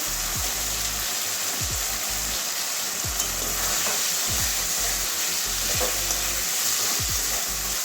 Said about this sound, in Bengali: এবারে দু তিন মিনিট কষিয়ে নেবো কাঁঠালের বীজটা দু তিন মিনিট ভালো করে কষাবো